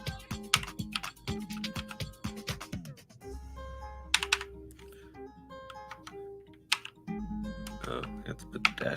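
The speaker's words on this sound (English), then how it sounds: "Typing it in on my Steam right now." A computer keyboard clatters in quick bursts of keystrokes with short pauses, close and crisp, under a low steady hum and a voice talking at times.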